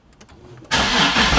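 A Nissan 370Z engine catches and roars to life after a brief, faint rattling crank from a worn starter, then runs loudly and steadily up close.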